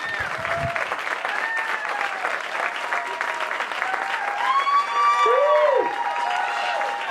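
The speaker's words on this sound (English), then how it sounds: "One more round of applause for Basma" An audience at a Stand Up for Down Syndrome comedy event applauds steadily for Basma, dense continuous clapping with a few cheers and whoops rising near the end.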